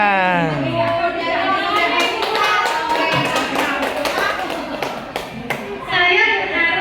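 A crowd claps hands in a steady rhythmic burst of taps at a teacher training event in Tangerang, loud and close, with children's voices mixed in.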